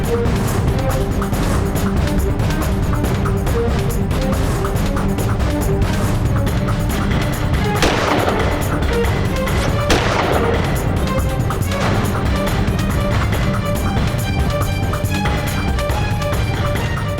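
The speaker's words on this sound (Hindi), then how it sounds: "इतनी पास से 2 गोलियां केडी की छाती में और वो अभी जिंदा है" Gunshots fired at close range on a stage in a crime drama, loud sharp reports bursting out amid a dense, noisy backdrop that stays loud throughout.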